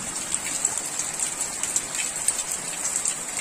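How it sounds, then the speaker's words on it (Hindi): Heavy monsoon rain falling steadily on a house, a dense continuous hiss with scattered close drip and splash impacts, loud and unbroken with no voices. "आज बढ़िया बारिश हुई दोस्तों"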